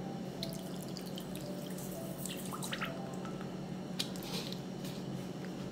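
About 150 g of water trickles and drips into a small saucepan of granulated sugar while a sugar syrup is made. The sound is quiet and close, with small splashes and clicks over a low background hum.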